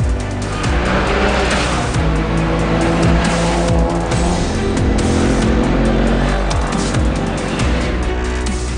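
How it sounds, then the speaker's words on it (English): Off-road racing cars drive in convoy through a town centre, their engines roaring loudly and continuously close by, with overlapping revving and tone changes as the vehicles pass. "Freiburg CBD was treated to 40 racing cars in convoy doing a parade on Friday morning"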